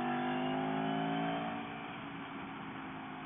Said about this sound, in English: put it through the gears, go through the rev range, really feel the power